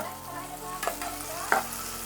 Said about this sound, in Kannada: ಈ ರೀತಿ ನಾವು ಹೈ ಫ್ಲೇಮಲ್ಲಿ ಫ್ರೈ ಮಾಡ್ತಾ ಬಂದರೆ ಈರುಳ್ಳಿ ಗೋಲ್ಡನ್ ಕಲರ್ ಬಂದ್ಬಿಡುತ್ತೆ